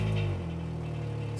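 A flood-damaged Toyota Camry XSE engine running just after starting, a close steady low idle hum that settles down from a slightly higher opening note.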